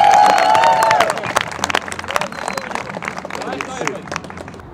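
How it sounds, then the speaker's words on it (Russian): Scattered clapping and cheering from a small street crowd around street musicians follow a loud voice, tapering off into lighter, uneven claps with chatter beneath. "Спасибо, аплодисменты дайте"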